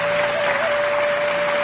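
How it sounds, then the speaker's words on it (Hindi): Audience at a poetry recital clapping in a dense, steady burst of applause with a faint continuous tone underneath, filling the short moment without a break. "एक बार जोरदार तालियां बजा के"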